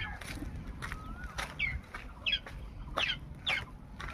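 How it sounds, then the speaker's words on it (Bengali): A young chicken, a growing chick wandering without its mother, gives short clucking calls at a steady pace a few times over several seconds, fairly near, over a low outdoor background rumble. "এই মুরগি বাচ্চাটা একটু জওয়ান হয়েছে।"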